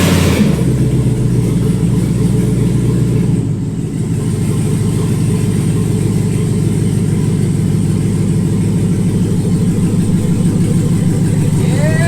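A truck fitted with a swapped Gen 5 V8 engine fires up and runs on its first drive, a loud close engine roar that briefly dips then settles into a strong rumbling idle with revving.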